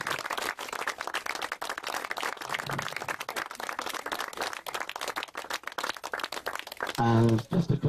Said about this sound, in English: if you could have a nice round of applause for the mayoress